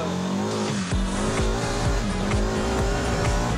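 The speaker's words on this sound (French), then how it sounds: "Le Can-Am, c'est l'espèce de drôle d'engin là. On appelle ça un SSV. Une sorte de super buggy." A Can-Am SSV off-road buggy races fast on Réunion's volcanic terrain, its engine roaring loud and close with repeated sharp revving shifts throughout.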